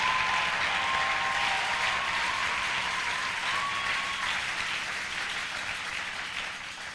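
A church congregation applauds to acclaim the Lord, with steady, moderately loud clapping from many hands that slowly tapers off over several seconds.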